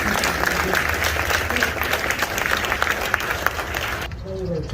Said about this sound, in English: Round of applause for the kids up front.